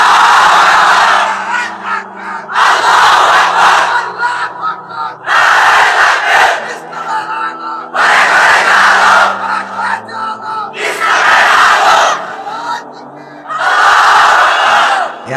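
A large crowd answers in repeated loud, unified shouts of takbir, several rising bursts of massed voices alternating with a single leading call, at an Islamic religious gathering.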